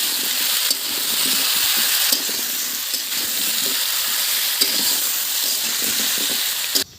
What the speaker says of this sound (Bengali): তেলের মধ্যে দিয়ে দিচ্ছি জিরে, পেঁয়াজ। একটু নেড়ে চেড়ে আলুগুলো দিয়ে দিচ্ছি।